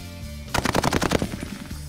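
Swedish M36 submachine gun firing a loud, rapid full-auto burst of about a second, each shot sharply separated, following a low idle hum, aimed at targets on an outdoor range.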